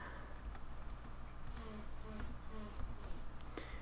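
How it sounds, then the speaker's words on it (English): Fingers type on a computer keyboard, entering measurements into an Excel spreadsheet, giving scattered soft key clicks in an irregular rhythm, quiet and close over faint background hiss. "So then I can go ahead and type that in."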